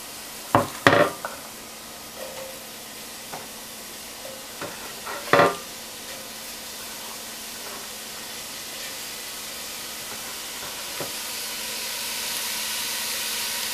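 Onions and garlic sautéing in a soup pot give a low, soft sizzle, broken early by a few sharp clanks and stirring knocks, then settling into a quiet, gently rising hiss.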